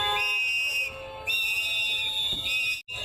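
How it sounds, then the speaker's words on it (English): Shrill whistles blow in long sustained blasts, overlapping with a faint crowd murmur, then cut off abruptly at the end. "What are the whistles for?"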